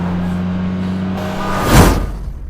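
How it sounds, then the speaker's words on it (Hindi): A Toyota Supra MK4 engine rumbles steadily, then surges loudly in a brief rev that peaks and trails off, heard alone at close range. "सुपरा के यूनिक और स्पेसिफिक पॉइंट है उसकी इंजन रोरिंग, उसके इंजन की दहाड़ने टाइप्स की आवाजें"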